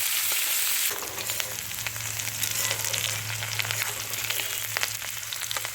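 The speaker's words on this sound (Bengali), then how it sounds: "গ্যাসের জোর দিয়ে আলু আর পেঁয়াজ কারিটা পাঁচ মিনিট ভেজে নেব" Potatoes and onions sizzle steadily in a hot pan over a high gas flame, a continuous close crackle and hiss with occasional stirring.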